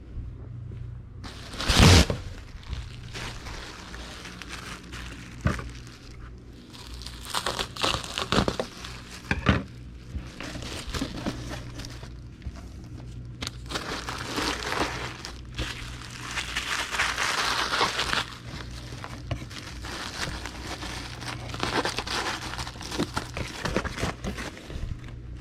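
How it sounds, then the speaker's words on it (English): A sheet of bubble wrap handled and cut in half, with intermittent crinkling, rustling and soft crushing close by, arriving in irregular bursts against a quiet room. "now we need to get a sheet of bubble wrap and cut it in half"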